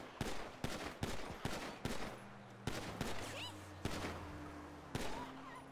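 Gunfire from a weapon in the Sentinel RP video game, a steady series of sharp, loud single shots at roughly half-second intervals, with faint background tones between them.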